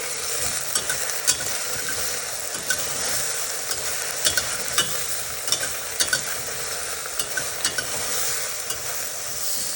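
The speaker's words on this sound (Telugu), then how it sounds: "ఇప్పుడు దీన్ని బాగా వేయించుకుందాం." Okra, tomato and tamarind frying in a pan for a Telugu okra curry, giving a continuous bright sizzle with occasional scraping stirs, close up and with no voices.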